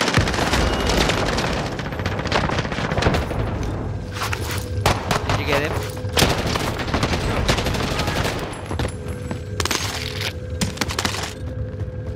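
Rapid gunfire in a shooter video game, with sustained bursts of automatic shots and sharp cracks that fill the scene loud and close, while a player talks over the action.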